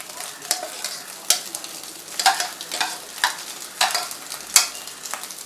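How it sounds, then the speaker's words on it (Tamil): Chicken frying in a pan for fried rice, an oily sizzle broken by repeated sharp scrapes and stirs in an irregular rhythm, close and clear with no talking. "இப்போ வந்து இந்த சிக்கனையும் போட்டு நம்ம லைட்டாக ஃப்ரை பண்ணிக்கலாம்"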